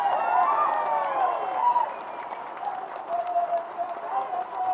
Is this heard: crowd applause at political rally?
yes